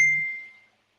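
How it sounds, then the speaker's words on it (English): A single bright chime from a mobile phone notification, clear and close, ringing briefly and fading out within under a second, heard alone in a quiet room. "my phone just made a noise"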